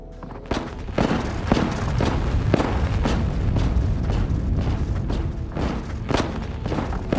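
Explosions in the space-survival game Stationeers, a rapid series of heavy booms and thuds that repeats roughly every half second, loud and dense over a rumbling low base, with no speech.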